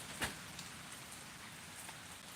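Steady rain falling on a porch during a severe thunderstorm in Pittsburg, Kansas, a soft, even hiss with one brief louder patter near the start and no thunder or voices.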